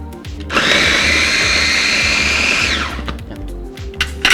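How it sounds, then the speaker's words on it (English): Food processor whirring loudly for about two seconds as it chops garlic and red onions, a steady high motor whine that winds down at the end, with clattering before and after. "very useful food processor here"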